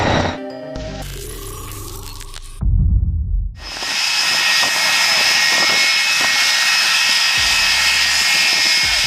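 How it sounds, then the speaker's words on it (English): An MD-80 jet departing over Maho Beach on St. Martin roars at high thrust, a loud, sustained engine blast with a steady whining hiss that follows a brief burst of other sound. "The MD-80's jet wash creates enough thrust to hurl loose objects and people toward the water"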